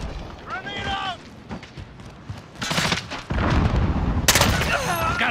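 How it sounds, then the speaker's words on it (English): Call of Duty: Modern Warfare multiplayer action brings gunfire bursts and a booming grenade blast, loud and layered with game sounds, while a radio-style voice and a player speak over the shooting. "Grenade out!"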